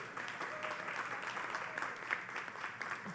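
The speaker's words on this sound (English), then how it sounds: "Kindly give the Department of Culture an astounding round of applause." Forum audience at the 5th Annual Culture Creative Industry Forum applauds the Department of Culture with steady, distant-sounding clapping that stays fairly quiet throughout.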